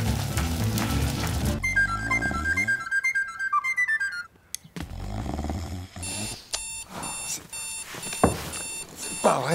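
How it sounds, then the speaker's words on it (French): An alarm clock rings loudly in a bedroom, its shrill repeating electronic tones alternating with bursts of other sounds and a stretch of piano-like notes, the ringing returning in insistent pulses. "Réveil, fait un boucan."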